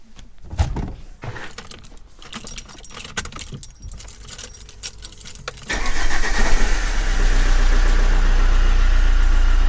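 Keys jangle and rattle up close, then a 2005 Vauxhall Vectra 1.9 CDTI diesel with an alternator charging fault cranks and fires, settling into a loud, steady idle.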